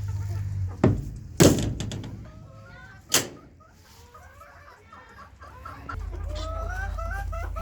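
Chickens kept as laying hens cluck and squawk in short bursts, with a few sharp thumps and flaps as they fight nearby, then softer clucking continues.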